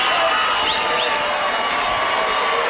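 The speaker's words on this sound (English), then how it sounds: "Crowd on its feet here, cheering for Holly Holm." Boxing arena crowd on its feet cheering for Holly Holm at the end of a round against Mary Jo Sanders, a broad continuous roar with applause and scattered whistles.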